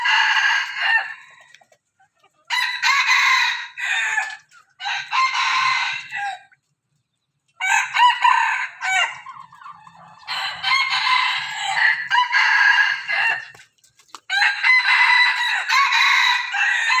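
A rooster crows repeatedly among clucking chickens, loud, close and bright bursts broken by short silent gaps, with faint low background noise beneath.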